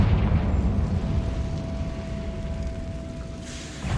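A Confringo fire spell explodes in Hogwarts Legacy, a loud continuous roaring blast with a low rumbling body and a steady ringing tone that sustains throughout, with no talk.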